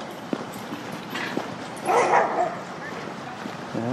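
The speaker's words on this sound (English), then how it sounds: "The dogs are going crazy." Three loose dogs barking and yelping along a meadow trail, a few sharp barks at a moderate distance mixed with people talking and outdoor background noise.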